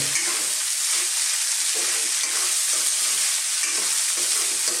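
A bean sprout and tofu filling seasoned with garlic powder, pepper and salt is stirred in a hot pan, a continuous close sizzle with soft rhythmic scraping strokes, no talk.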